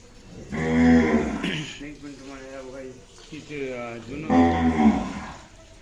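A Khillar cattle herd with a heifer nearby, deep bovine moos rising and falling in long drawn calls, fairly close and loud, one near the start and another near the end.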